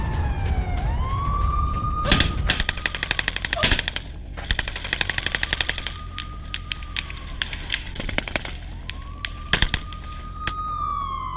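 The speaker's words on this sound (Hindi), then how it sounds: "ये तस्वीर है हमास के लड़ाके की फायरिंग की जो आईडीएफ के ऊपर यानी इजरायल की सेना के ऊपर कर रहा है।" Hamas fighters fire on Israeli army positions in news footage, loud bursts of automatic gunfire cracking in short rapid volleys with single shots between, while a siren-like wail rises and falls in the background.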